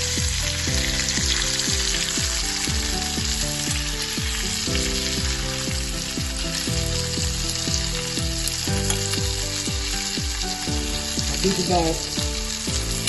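Stuffed bananas frying in a pan for a Gujarati vegetable dish, a continuous sizzle with repeated scraping as the pieces are turned over, a brief word spoken near the start.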